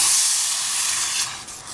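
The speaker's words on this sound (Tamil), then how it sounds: "இப்படியே நீங்கள் தண்ணியை ஊற்றுங்க." A loud, bright hiss of water poured into a hot pan of rava for kesari, steaming strongly at first and then fading slightly over a couple of seconds.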